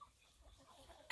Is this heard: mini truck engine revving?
no